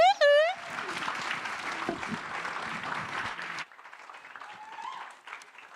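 Audience applause for artists at a short film premiere on Rivington Street, a sustained rush of clapping that drops off sharply partway through, with voices and a high whoop at the start and talk continuing afterward.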